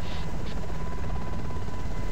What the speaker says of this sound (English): Enemy chopper in front of us.